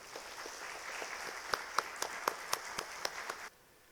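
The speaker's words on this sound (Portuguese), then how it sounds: "peço aqui uma salva de palmas para a nossa querida Elza" An audience applauds at a Portuguese-language talk on mediumship, a room of hands clapping steadily, with a few louder, closer claps standing out before the applause stops abruptly.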